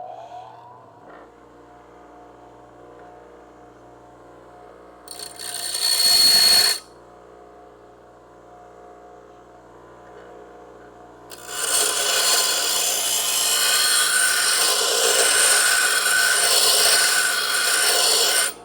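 A bench grinder works metal back and forth during a Crew Cab Charger restoration: a steady motor hum, a short harsh grinding burst, then a longer loud rasping grind that ends abruptly.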